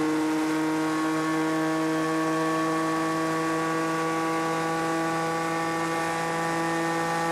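A Ford Le Mans endurance race car at Spa-Francorchamps holds a loud steady engine tone in the pit lane, a strong droning note that stays level throughout, with no clear break for a gear change.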